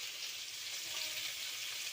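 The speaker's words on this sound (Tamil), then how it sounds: "இப்போ எல்லாம் நல்லா வதக்கிக்கலாம்" Steady, close hiss of curry leaves, coriander, tamarind and garlic sizzling in hot oil in a pan for peerkangai chutney, an even frying crackle with no pauses.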